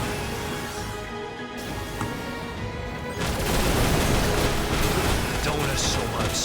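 Laser cannon fire from mech combat in the video game Daemon X Machina: dense, rumbling bursts of blasts and impacts that grow louder and fuller midway, mixed with game sound effects and voices.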